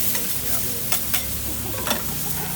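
Smash burgers fry with onion on a hot griddle, giving a loud, close, continuous sizzle broken by a few sharp spatula scrapes and taps as they are flipped.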